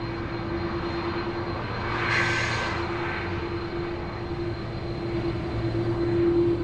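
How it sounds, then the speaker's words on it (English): An A330 airliner taxiing at Sydney Airport, a steady, moderately loud engine drone with a whining tone that swells briefly and holds over background rumble. "A330 now taxiing past us at Shaps"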